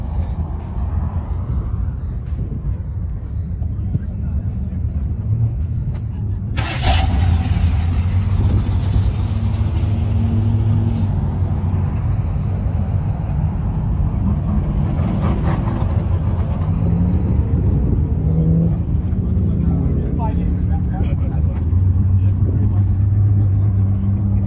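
Modified Dodge Durangos, Hellcats and Camaros at a track day at Atco Raceway, with loud engine rumble that rises and falls with revving throughout and voices talking over it.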